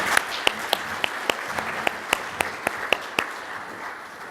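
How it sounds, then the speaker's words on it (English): Audience applause for Sarah and Tim at a bridge preservation event, a soft bed of clapping with a dozen sharp, evenly spaced close hand claps standing out on top. "Let's have a round of applause for Sarah and Tim."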